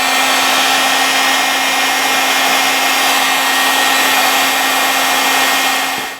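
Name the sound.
heat gun heating a hex socket bolt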